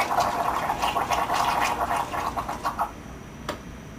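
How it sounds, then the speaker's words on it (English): Water streams from the dispensing head of a Saeco Syntia espresso machine after its dial is turned counterclockwise, a steady close splashing hiss lasting about three seconds before tapering off into quiet. "turning your dial counterclockwise for a few seconds to release some water"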